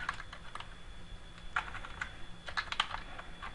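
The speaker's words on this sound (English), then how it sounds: "We'll type in Nextgear" Fingers tap out a short entry on a computer keyboard, soft quick clicks in uneven bursts at close range over a faint steady hum.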